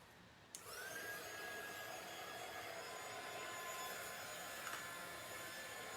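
A handheld dryer switches on and then blows steadily with a constant whining drone while drying a pumpkin shelf sitter craft, loud and close with no talking.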